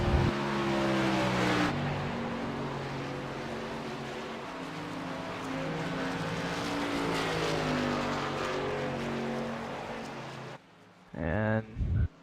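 Race trucks in a Wiley X Truck Series race at Kansas Speedway, a loud, continuous engine roar with droning tones that holds for about ten seconds and then cuts off sharply, with a brief final burst.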